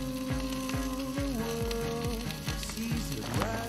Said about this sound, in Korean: 지글지글 식을 줄 모르는 무쇠 솥뚜껑